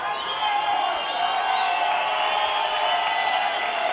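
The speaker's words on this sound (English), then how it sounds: "just listen to this incredible support that Albert is getting from the local crowd" A local crowd at a European Championship disc golf final cheers and claps in a sustained, moderately loud roar, with a commentator talking over it.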